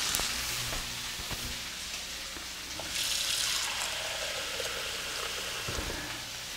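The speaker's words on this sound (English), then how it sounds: "I add about 2 cups of water." About two cups of water pour into a pot of green bean stew, a soft steady splashing and hiss that swells midway, fairly quiet and close with no talk.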